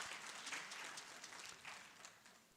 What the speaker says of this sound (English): You clap for yourselves.